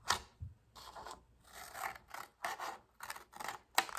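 A cutting tool, likely scissors, works a V-shaped point into the edge of a radial weaving loom in a series of short, rasping strokes separated by brief pauses. Quiet and close, with no talking.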